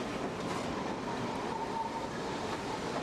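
A BR Standard class 4MT steam train runs in toward Corfe Castle from Wareham, giving a steady, dense rumble of wheels and carriages that stays even and fairly close for the whole stretch, with no voices.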